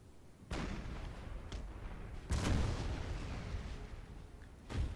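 Cannon fire on a Napoleon Total War battlefield, three heavy booming blasts spaced a second or two apart over a dense rumbling din, fairly distant and muffled.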